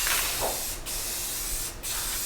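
Aerosol spray paint hissing onto a go-kart exhaust header, two short close bursts, each ending in an abrupt gap before the hiss resumes.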